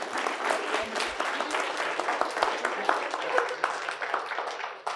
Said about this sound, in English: All right, clap it up, guys,